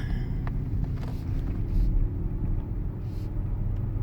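A Mazda MX-30 on a test drive, heard from inside as a steady, low road rumble and muted tyre noise that stays even and continuous with no talking.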